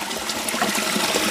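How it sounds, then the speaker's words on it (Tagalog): Water flows and splashes steadily in a continuous, fairly loud rushing gurgle, close by and without any voices over it. "Nag-flow na yung tubig po mga kabayan"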